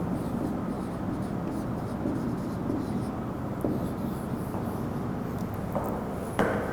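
A pen or marker writes an arithmetic example on a board, making soft scratching strokes with a few light taps over a low room hum.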